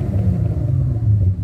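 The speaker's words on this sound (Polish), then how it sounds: "w przypadku silnika VR6 brzmi on jakoś bardziej jak V6" A Volkswagen VR6 engine idles close by with a steady, deep rumble, a low throaty hum and slight fluctuations.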